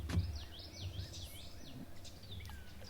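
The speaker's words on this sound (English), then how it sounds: "Woodpecker." A woodpecker calls outdoors near Truman Lake, heard from a boat on the water: faint, repeated high chirping notes come from some distance over a steady background hiss.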